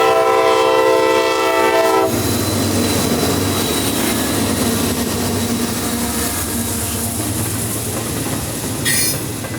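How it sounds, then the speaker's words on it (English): A CSX freight train led by two CM44 locomotives passes at close range. A loud, chorded horn blast opens the passage, then the roaring engines and the rumble and clatter of rolling freight cars carry on steadily to the end. "2 CM44 locomotives would lead the charge this day"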